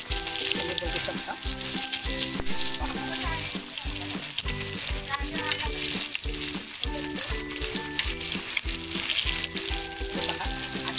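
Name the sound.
halwa fish frying and sizzling in pan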